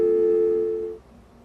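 A mobile phone call cutting off after the battery dies, a single steady electronic tone lasting about a second before it fades into faint background noise.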